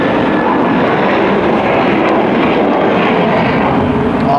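An aircraft passes close overhead near Heathrow Airport, a loud, steady broadband engine roar filling the whole stretch without a break.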